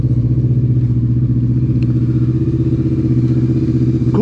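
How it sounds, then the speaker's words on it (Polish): A Bombardier DS650 quad idles loudly and close by, a steady throbbing single-cylinder engine rumble with rapid even pulses and no voices. "Oskar odpala CB, nie CB, tylko DS-a 650"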